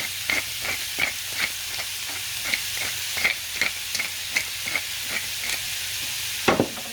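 Meat browning on high heat in a pan for bolognese sauce, a steady sizzle with a regular series of sharp scraping stirs and one louder clatter near the end.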